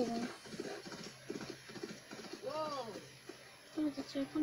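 A horse's hooves clip-clop in an Assassin's Creed video game, a soft rhythmic clatter heard beneath a person talking and game sounds.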